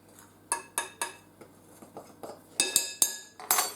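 Flours are stirred together in a bowl for malt loaf, a utensil clinking and scraping against the bowl in quick uneven strokes, growing louder toward the end.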